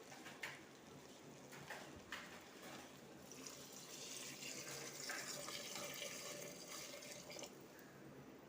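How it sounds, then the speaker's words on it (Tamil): One litre of water poured into a pot of browned country chicken curry with chilli and coriander powder, a faint, continuous splashing pour that lasts several seconds. "இப்போது இதில் 1 லிட்டர் தண்ணி சேர்த்துக்க போகிறேன்."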